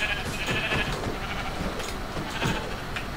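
Sheep bleats from the video game Minecraft, a couple of wavering calls in quick succession over a steady background bed.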